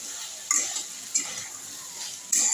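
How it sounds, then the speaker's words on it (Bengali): Curry is stirred and fried down in a pan on a home stove, with three distinct scraping strokes of a utensil against the metal over a soft sizzle, close and moderately loud. "আর একটু কষাবো তরকারিটা"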